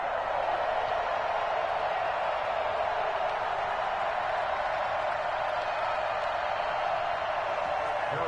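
Dense, steady roar of a stadium crowd cheering in Madden 21 before a Kansas City Chiefs kickoff against the Dallas Cowboys, a continuous wash of noise with commentary voices running over it.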